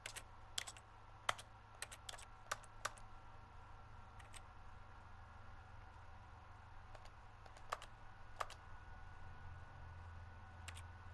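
Sparse computer keyboard keystrokes click in small bursts over a low steady hum while playing The Stanley Parable, with long quiet gaps between presses.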